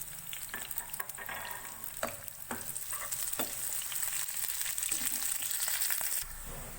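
Round red chilies, cumin, curry leaves and two green chilies frying in hot oil over lightly browned onion for a kadhi tempering, a soft steady sizzle with scattered crackles and pops, close and fairly quiet.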